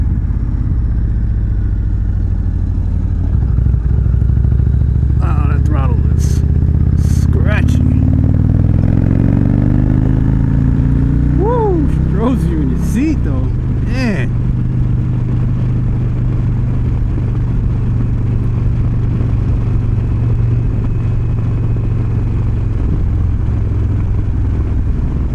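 Indian Chieftain Darkhorse 116 motorcycle engine on a test ride, a steady loud low rumble throughout with a lumpy throb and a few sharper revs and shifts partway through, no talking.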